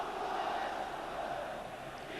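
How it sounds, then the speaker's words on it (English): Football stadium crowd at an Iran versus Republic of Ireland World Cup qualifier in 2001, a distant, steady roar of cheering supporters, continuous and moderately faint with no distinct individual voices. "Crowd trying to lift the team"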